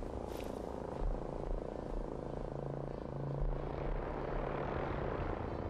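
A droning aircraft engine rumble from the Fallout 4 video game as a plane comes down, a steady, fairly loud hum with slight swells and no clear crash impact.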